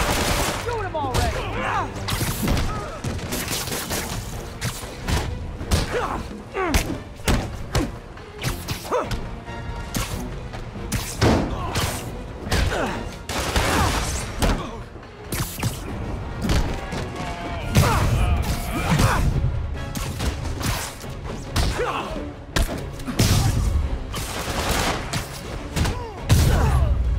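Gunfire and combat impacts from the video game Marvel's Spider-Man (2018) on PS4 Pro: dense, rapid bursts of shots with crashes and thwacks, loud and continuous throughout, mixed with game sound effects.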